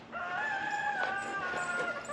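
Chickens in backyard pens cluck and crow in a steady, close chorus, with bright overlapping calls running continuously through the whole stretch and no talk.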